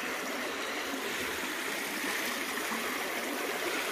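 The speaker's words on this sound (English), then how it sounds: "This here will be the sluice we're using today." Water rushes steadily through a gold prospecting sluice fitted with a dream mat, a constant near hiss and trickle of flowing stream water with no talking.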